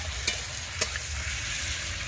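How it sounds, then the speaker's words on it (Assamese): Broiler chicken fries in hot oil with a steady, close sizzle, broken by two brief scraping stirs of a utensil, and no voices over it. "এইটো হৈছে ব্ৰইলাৰ চিকেন, মানে এইটো এনেই আৰু ভাজি খাম বুলি বনাইছোঁ"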